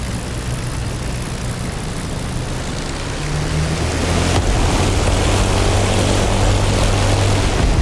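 A propeller aircraft in the DCS flight simulator rolls for takeoff, its engine a loud, continuous droning roar that steps up in power partway through and then holds steady.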